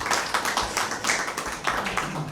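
Audience applause at a mushaira poetry gathering, a lively crowd clapping in a brisk, uneven patter, close and fairly loud, without speech over it.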